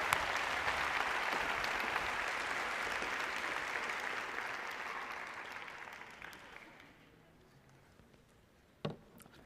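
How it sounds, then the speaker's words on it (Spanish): A live audience applauds steadily at an event, the clapping sustained and fairly loud before fading out over the last few seconds, ending with a single sharp knock. "les damos un aplauso grande, por favor"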